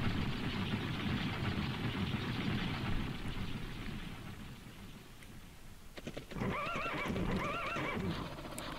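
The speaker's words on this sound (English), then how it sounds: "I love the horse noise." Horse neighs loudly in the Legend of Dragoon video game. A rising, wavering whinny arrives late, over a steady bed of rain-like ambient hiss and rumble that runs throughout.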